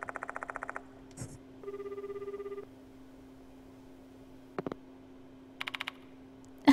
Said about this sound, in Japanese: ペータ君に電話しよう。